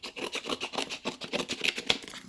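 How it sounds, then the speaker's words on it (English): Scissors snipping and rubbing through the plastic packaging of SoundPEATS magnetic wireless earbuds, a quick run of close, crisp cuts and scrapes with no talking. "Found my scissors."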